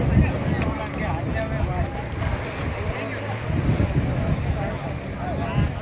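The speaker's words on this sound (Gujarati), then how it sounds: "ઠંડો ઠંડો પવન હાલે છે." Cold wind blows at Shivrajpur beach and rumbles against the microphone. Softer surf and a faint murmur of nearby voices sit underneath.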